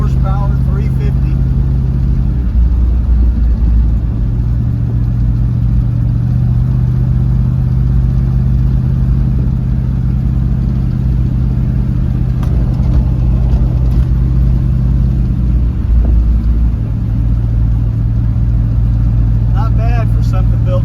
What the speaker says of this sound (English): Just the noise of that brand new Chevy V8 350 horsepower 350.